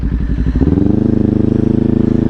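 A 2018 Kawasaki Ninja 400 motorcycle being ridden: a loud, close engine drone that shifts pitch early on, then settles into a steady, throbbing hum.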